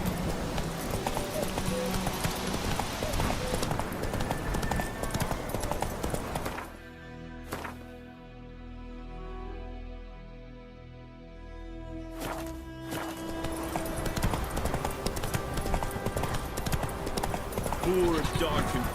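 Horse hooves clip-clop steadily while riding in The Witcher 3, loud and close, with a few seconds of near silence midway before the galloping hoofbeats resume under game ambience.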